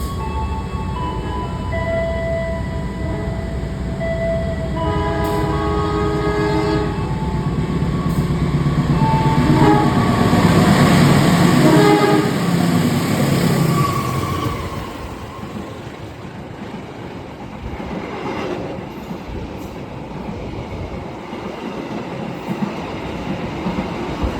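Inside the Sri Tanjung economy train in Indonesia, a steady rail rumble swells as the Blambangan Express passes on the next track, then fades back to a rhythmic wheel clatter, close and continuous with no talking.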